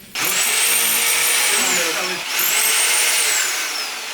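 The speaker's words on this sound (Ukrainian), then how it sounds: "Народний артист України Анатолій Вольський разом із звукооператорами шліфує отвір під вікно." A loud, steady power sander whines close by, sanding a window opening in a theater wall, with a high pitch that rises and falls, pausing briefly midway before grinding on.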